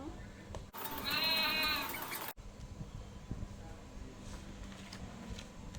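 A single sheep bleat, loud and drawn out for about a second and a half, rising over quiet background murmur that continues afterward.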